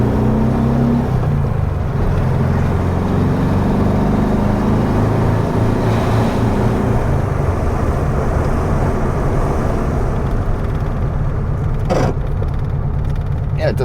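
1969 VW Beetle on the road with dry-rotted tires, downshifting into second: a loud, steady engine drone and road rumble inside the car, with a brief knock near the end.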